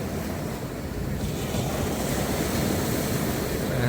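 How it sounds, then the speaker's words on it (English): Ocean surf washing continuously onto a crowded beach near small fishing boats, a steady broad roar with wind buffeting the microphone, no voices. "waves"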